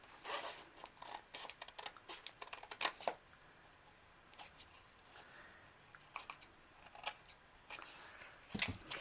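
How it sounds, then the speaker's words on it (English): Scissors trim a paper collage tag, making quiet, irregular snips and crisp paper rustles in short bursts with brief pauses, close by and with no one talking. "And we're going to cut that tag down."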